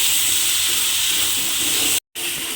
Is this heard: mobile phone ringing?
no